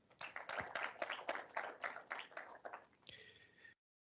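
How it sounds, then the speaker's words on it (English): A small audience gives a round of applause for the president of an agricultural economics association at a memorial lecture, with sparse, distinct handclaps near the microphone that thin out before a short tail of room noise and an abrupt cut. "can we give our president one big round of applause again"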